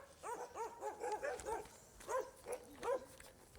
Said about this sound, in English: This dog, what is it barking at?